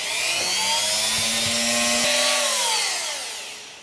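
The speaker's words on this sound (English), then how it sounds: "let's sand this down real quick" A small homemade fishing-kit part is sanded smooth with a whirring rotary power tool. A steady high-pitched grind runs for about four seconds, close and loud. Its pitch holds, then slides slightly lower toward the end.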